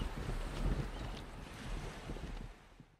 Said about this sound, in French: le vent gonfle les voiles du navire qui l'entraîne loin de Constantinople